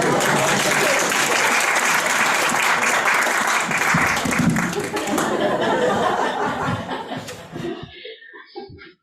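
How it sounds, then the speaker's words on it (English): A congregation claps during a Unitarian Universalist Sunday service: steady, loud applause with a few chuckles, holding strong for several seconds before thinning and fading out near the end. "Clap for this."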